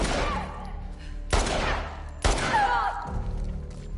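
Gunfire in The Last of Us multiplayer: sharp, loud shots, each followed by a ringing echo tail, spaced about a second apart.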